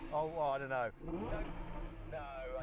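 An Audi R8 engine revs in short rising bursts while people talk over and around it.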